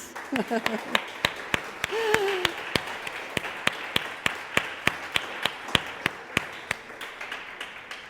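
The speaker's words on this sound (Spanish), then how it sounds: "¿Puedes darle un aplauso a Jesús?" Church congregation clapping for Jesus: a sustained run of loud, evenly spaced rhythmic claps filling the room after a brief spoken prompt, with some voices early on.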